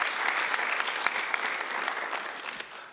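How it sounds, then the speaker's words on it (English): Audience applause at the close of a social cohesion symposium, a steady patter of many hands clapping that fades slightly toward the end, with no talk over it. "A round of applause for yourselves would be very good."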